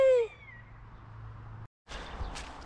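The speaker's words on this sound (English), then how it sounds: "here's the bird of prey" A bird of prey gives a loud, high descending call at the start near abandoned mansion remains in a Scottish forest, fading quickly into a steady low hum and outdoor rustle.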